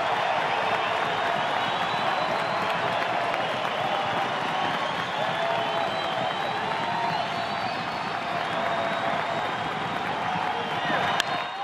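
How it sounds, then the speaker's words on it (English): Standing Fenway Park baseball crowd cheering and applauding in the ninth inning, a dense, steady roar of many voices with scattered whistles, continuous and loud throughout. "This Fenway Park crowd standing with 2 down in the ninth."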